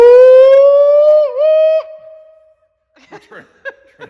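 A human voice imitates a tornado siren, with a loud sustained wail that rises, wavers briefly and trails off, followed by soft laughter.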